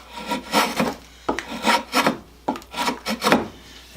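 A draw knife, held bevel down, shaves wood in a run of rasping back-and-forth strokes, roughly three bursts per second-long pass with brief pauses between, close and clear with no talk.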